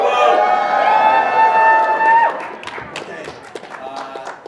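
Guests at a commissioning ceremony stand and yell together, a loud, sustained burst of crowd shouting and cheering that cuts off after about two seconds into scattered voices and murmur.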